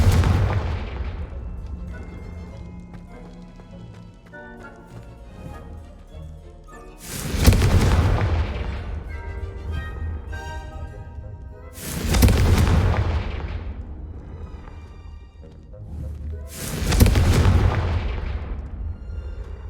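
Confringo spell explosions in Hogwarts Legacy sound as three loud booming blasts, each with a long rumbling tail, spaced about five seconds apart over quieter game ambience.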